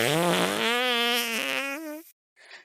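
Fart sound effect in a comedy sketch, a long rising, buzzy tonal blast lasting about two seconds, loud and close, then a short faint sputter after a brief gap.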